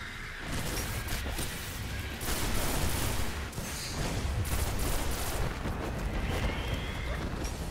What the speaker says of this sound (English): Got a boomer knight firing in down the hallway.